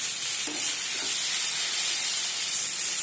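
Steady loud hiss of water poured into a pan of hot tempering for ragi upma, with a couple of brief sizzling bursts near the start, then continuous even steam hiss throughout.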